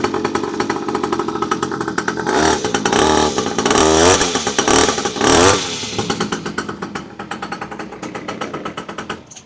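A 49cc two-stroke mini pocket bike engine runs close by, a rapid buzzy rattling idle that rises into a couple of sharp revs midway before settling back to a chattering idle.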